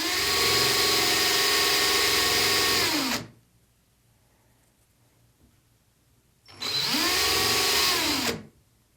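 A handheld power tool shaping a cork ring for a fishing rod handle whines loudly in two bursts, a long run then a pause and a shorter one, each winding down at the end, close and without talk.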